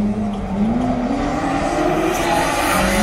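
Racing cars roar at close range in one continuous, loud engine drone whose pitch rises slowly, with tyre noise underneath and nobody talking.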